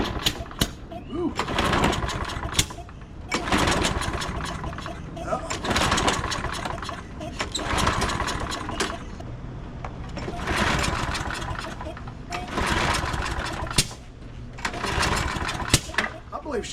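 A Toro 22-inch Recycler lawn mower engine fed starting fluid sputters in uneven bursts of rough, loud combustion, cutting in and out with brief drops between surges.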